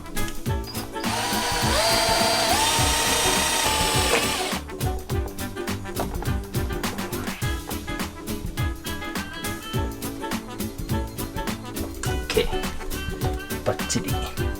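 Power drill fastening a nut underneath during a Mazda Bongo van conversion. A loud, close whirring burst runs for several seconds, then gives way to a dense run of clattering knocks and clicks.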